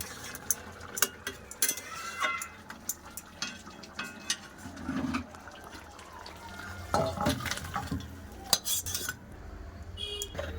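Fish curry with bori dumplings poured from a pan, with metal utensil clinks and scrapes, a wet pouring slosh and spoon knocks against the cookware, close and moderately loud.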